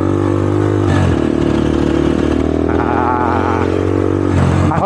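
A motorcycle fitted with an aftermarket exhaust revs loud and close, with a steady deep drone and pitch rising and falling between throttle blips, with no talking over it.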